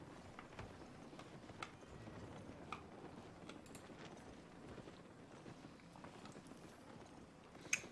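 Faint, quiet hoofbeats of a horse mount in the video game Albion Online, soft irregular clip-clop under a windy hiss, with a sharper tap near the end.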